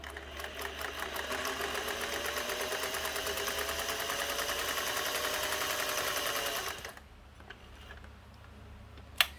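A Singer 401A sewing machine runs at a steady fast stitching rhythm for several seconds, a close mechanical whir with rapid ticking, then stops, leaving quiet with a single click at the end.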